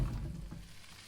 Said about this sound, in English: gonna fry them raw